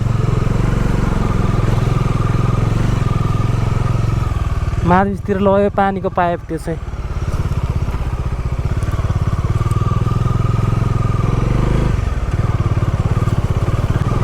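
A scooter engine drones steadily as it climbs an unpaved village road, close and continuous throughout, while someone talks over it.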